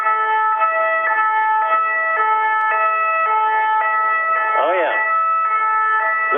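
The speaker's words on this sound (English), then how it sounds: "Is that a French police car?" Loud, close two-tone siren of a French police car alternating steadily between a high and low note, with a brief wavering whoop partway through.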